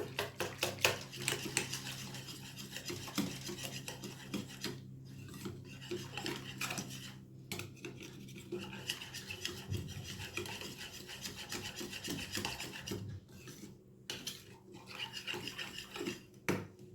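A utensil stirs and mixes food in a cooking pan while an evening snack is made in a home kitchen. Close, continuous rasping scrapes and rubs against the metal come in irregular strokes with brief pauses.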